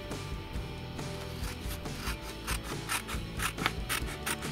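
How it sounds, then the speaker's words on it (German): Scissors cutting a quarter circle out of paper for a mini school cone craft, a close run of crisp snipping and rustling with sharper clicks toward the end, no talk. "Und den Viertelkreis schneide ich jetzt einmal aus."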